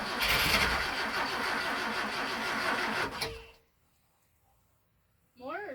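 Boat engine on a Land and Sea Craft catching on starting fluid: a loud, close, rough cranking and running roar for about three seconds, then it cuts out to near silence before a voice speaks.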